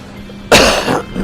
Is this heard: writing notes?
no